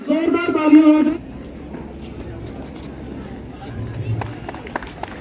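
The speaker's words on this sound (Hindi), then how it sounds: "जोरदार तालियां हो जाए।" Audience at an anti-drug event organised with J&K Police applauds to welcome the chief guest, an SSP. A voice speaks briefly first, then a steady, moderately distant wash of clapping and crowd noise continues to the end.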